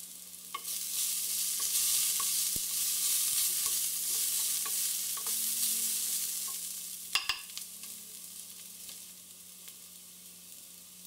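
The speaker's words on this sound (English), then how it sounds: "So stir that for another minute." Garlic paste and cumin powder fry in oil in a pan for a Bengali fish dumpling curry, sizzling softly and steadily while a utensil scrapes and stirs, with a couple of sharper clatters near the end.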